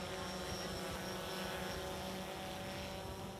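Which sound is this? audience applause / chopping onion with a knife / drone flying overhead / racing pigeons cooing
drone flying overhead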